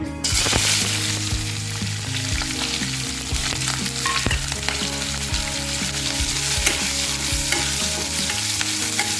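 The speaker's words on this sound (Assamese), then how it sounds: "এইখিনি সেই মাছ ভজা তেলতে দি দিম।" Loud, continuous sizzling of onions and chilies frying in hot oil previously used to fry fish, with occasional stirring scrapes, close up and steady throughout.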